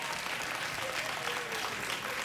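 A late-night talk show studio audience applauds. The clapping is sustained and even, a thick wash of many hands heard throughout.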